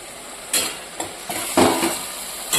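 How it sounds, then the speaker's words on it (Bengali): Potato and eggplant pieces frying in hot oil, a continuous close sizzle punctuated by several sharp clinks and scrapes of a utensil against the pan at uneven intervals. "এদিকে আমি বসিয়ে দিয়েছি আলুটা আর বেগুনটা ভেজে"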